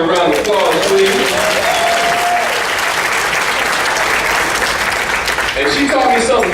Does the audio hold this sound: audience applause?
yes